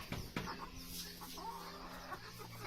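Darag native chickens cluck softly at close range in a farmyard setting, a few short calls over a quiet, steady background.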